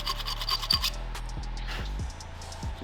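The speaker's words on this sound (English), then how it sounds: "take a V-shaped file and make little notches in the rake" A V-shaped file rasps little notches into a rake with short, steady scraping strokes, close and clear, while background music plays underneath.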